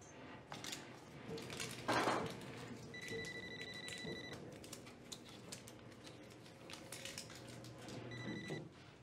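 A telephone rings in a home in short repeated bursts, a bright electronic trill, with faint clatter of dishes around it.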